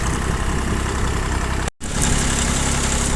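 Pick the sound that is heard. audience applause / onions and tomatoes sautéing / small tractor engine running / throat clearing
small tractor engine running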